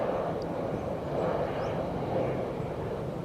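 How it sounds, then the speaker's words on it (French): Airplane coming in to land at an airport just nearby, a faint, steady broadband roar of jet engines from a distance, continuous throughout with no talking. "Marrant de voir l'avion atterrir."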